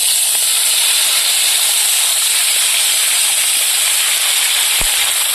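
Prawns frying in hot oil in a pan, a steady loud sizzling hiss running throughout with no talk, a brief low thump near the end.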